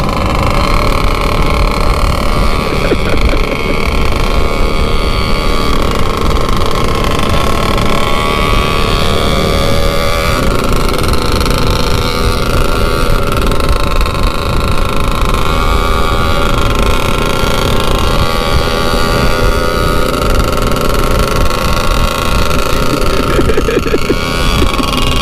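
A bored-up motorcycle engine runs loud and continuous under throttle, a harsh buzzing drone held at high revs from start to finish with little variation.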